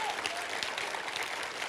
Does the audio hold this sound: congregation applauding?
yes